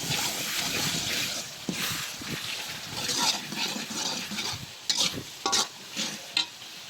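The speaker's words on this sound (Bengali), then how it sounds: "আমি যদি এরকম ধরে নাড়ি নাড়লে দেখবো" A spoon stirs biryani masala with softening tomatoes in a pot, giving a steady wet, sizzling churn with scrapes and a few sharper clinks toward the end, close and fairly loud, with no voices.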